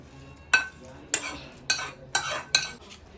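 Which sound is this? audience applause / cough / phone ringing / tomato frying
tomato frying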